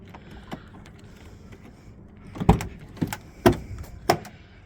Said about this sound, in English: Come on, door open.